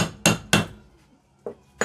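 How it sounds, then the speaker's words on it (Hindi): A hammer knocks out the coupling housing of a water pump motor: a few sharp, metallic blows up close, two quick strikes, a pause, then two more. "दोस्तों हथौड़े की मदद से थोड़ा इसको"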